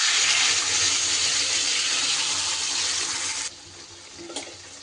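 Water pours into a freshly rinsed cooker in a steady, close rushing stream for a few seconds, then cuts off abruptly, leaving a faint clink.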